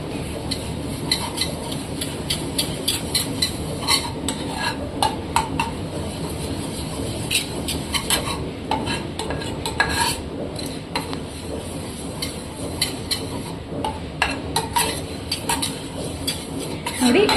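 Utensil stirring and clinking against a pan as ingredients lightly brown for a white sauce pasta, with a steady frying bed and frequent scraping clicks throughout, close and fairly loud.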